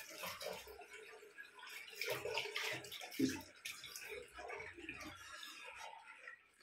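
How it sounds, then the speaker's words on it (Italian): A person splashes water while rinsing their face at a basin, with irregular close splashes and trickling water across the span. "Allora, sciacquo un attimo il viso."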